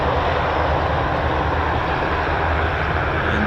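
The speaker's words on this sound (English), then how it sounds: "And characteristics of the PT6 is that big bore exhaust coming out." A Pratt & Whitney PT6 turboprop runs at an airshow exercise, its big-bore exhaust producing a loud, steady, broadband roar that holds unchanged throughout, with no voices.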